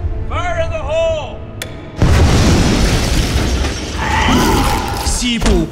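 Mine explosion in a cowboy-and-dinosaur movie trailer, a sudden loud boom with crumbling debris rumble following a shouted voice, then continuing rumble under another brief cry.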